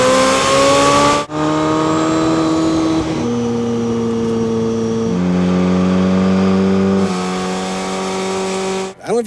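A Czinger 21C V Max hypercar driven on a road rally, its engine note climbing through the revs and dropping with each gear change, loud and close from inside the cabin, no talk.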